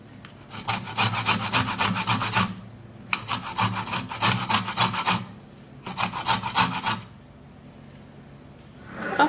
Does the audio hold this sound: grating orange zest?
yes